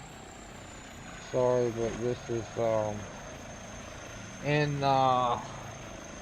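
Helicopter in Farming Simulator 25 flying with a steady, faint rotor and engine hum and a thin high whine throughout, while someone talks over it in two stretches.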